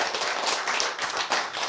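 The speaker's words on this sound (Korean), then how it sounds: "박수 아시겠죠?" Audience clapping during a lecture, a dense continuous wash of many hands applauding together for a brief moment, steady and fairly close without any talk over it.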